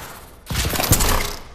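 A burst of rapid video game gunfire from an unidentified gun, one dense, loud, sustained volley with a few heavier thumps, heard alone without talk.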